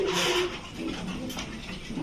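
A Dragon Huma red checker pigeon cooing close by, soft low throaty coos rolling along steadily over faint background noise, with no talk.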